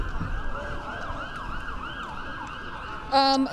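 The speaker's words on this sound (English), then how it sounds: "sirens" Emergency vehicle sirens wail through city streets, rising and falling steadily at a moderate distance during a live news report from near the Capitol insurrection. A short louder burst of noise comes at the end.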